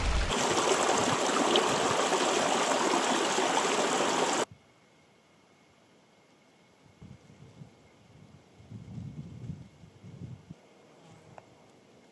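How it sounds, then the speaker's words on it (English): Mountain stream water rushes loudly and steadily up close as a bottle is filled in the Nephin Beg Mountains of County Mayo, then cuts off abruptly, leaving quiet outdoor ambience with soft rustling. "I'm going to fill my water bottle here"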